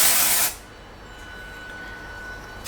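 A hair product is sprayed onto the roots in one short burst of hissing spray, then quiet room tone follows.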